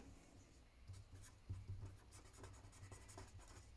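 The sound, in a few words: pen writing on paper, math exercise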